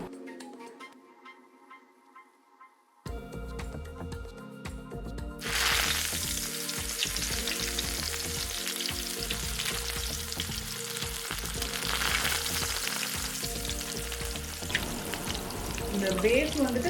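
Oil goes into a hot pan for frying bonda. After a quiet start there is a sudden loud hiss that settles into a steady, close, crackling sizzle.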